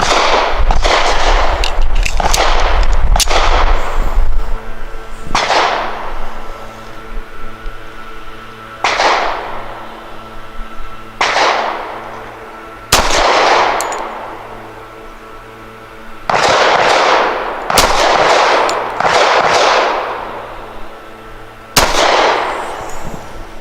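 A Rock Island 1911 Ultra CCO pistol fires SIG V Crown 185-grain hollow points: about eight loud, sharp shots at irregular intervals, each with a long ringing decay outdoors.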